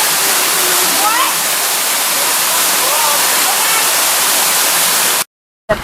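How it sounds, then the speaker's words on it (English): A waterfall in a bamboo forest rushes loudly and continuously as a broad, steady roar, with faint voices underneath, ending abruptly. "we just came to the top of the second waterfall."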